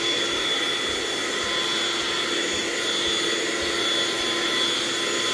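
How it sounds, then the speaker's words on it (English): A vacuum cleaner running on power from a solar panel through an inverter gives a steady, loud whine with a constant motor drone and airflow hiss, unchanging throughout with no talking. "So the energy being used by this vacuum cleaner is a free energy coming from my solar panel"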